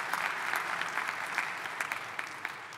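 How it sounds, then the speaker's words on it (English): A crowd at a community meeting about a city festival claps steadily for a police captain, even continuous applause held at a moderate distance throughout. "So if we can give him a round of applause"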